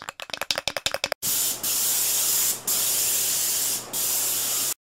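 Cartoon spray can: a quick rattle of shaking clicks, then three long loud hissing sprays separated by short pauses.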